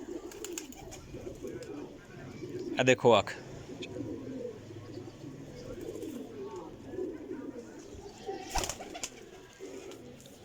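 Breeder pigeons cooing softly while a man handles them and talks over them, with a couple of short flapping or rustling bursts in between.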